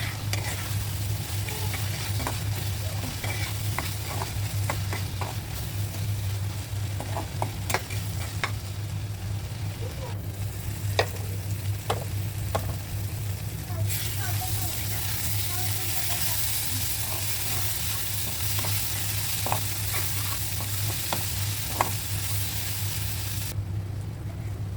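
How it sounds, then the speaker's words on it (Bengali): Dried loitta fish cooks in a pan on a lowered flame: a soft, steady sizzle runs throughout, broken by irregular clicks and scrapes of a utensil stirring close by. "চুলার রাস্তা কমিয়ে দিয়ে 10 মিনিট রান্না করে নিব।"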